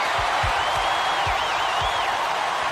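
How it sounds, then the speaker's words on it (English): A packed college basketball arena crowd roars loudly and continuously late in a game, with a high whistle and low thumps rising through the dense cheering. "This crowd couldn't be any happier. Just listen to the people in this building."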